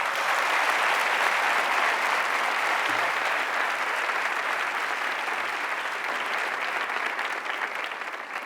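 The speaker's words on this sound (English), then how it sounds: "Please give them a round of applause." A large conference audience breaks into a long, dense round of applause that stays loud and even throughout, easing slightly toward the end.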